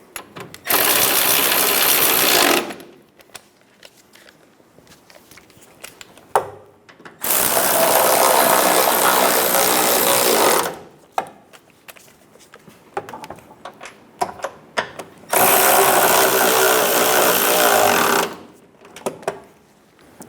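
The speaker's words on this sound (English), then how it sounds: "Snug down the bolts." Power tool driving fuel pump assembly bolts snug on a 2014-2018 Chevrolet Silverado 1500, three loud, close bursts of whirring ratcheting of a few seconds each, separated by quieter pauses with faint clicks.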